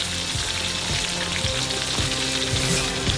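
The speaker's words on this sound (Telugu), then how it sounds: "ఈ వంకాయలు చక్కగా కుక్ అయ్యేంత వరకు ఇందులో ఫ్రై చేసుకోండి." Brinjals (eggplant) fry in a pan of oil with a dense, steady crackling sizzle that stays loud and close from start to finish, with no talking.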